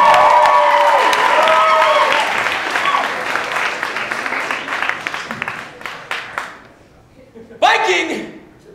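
Audience at a Portland poetry slam performance bursts into loud applause and cheering that gradually thins into scattered clapping, then a brief renewed swell of cheers near the end; speech is mixed in among the crowd.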